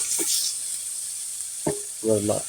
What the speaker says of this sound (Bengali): এই সেই হাঁসের গোস্ত ঢেলে দেওয়া হচ্ছে